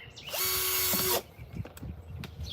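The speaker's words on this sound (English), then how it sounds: "I'm backing the drill back out." A power drill runs in reverse, backing out of a hole while planting a soursop in a container: one loud steady whine of about a second with a rising pitch, then stopping, followed by quieter handling noises.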